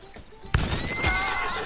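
A horse in Red Dead Redemption 2 lets out a loud, close whinny that rises after a short thump, with faint hoof clatter before it.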